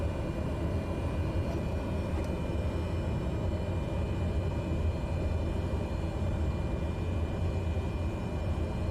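Cessna 208 Caravan single-engine turboprop in a flight simulator spooling up for takeoff, a steady broad engine roar with low rumble holding at constant loudness throughout, with no voices.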